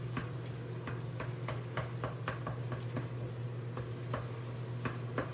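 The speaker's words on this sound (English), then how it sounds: "The rice is cooking away, that's why you hear the microwave." A kitchen microwave runs while rice cooks inside, giving a steady low electrical hum with a scattering of soft ticks and clicks, fairly quiet and with no voices over it.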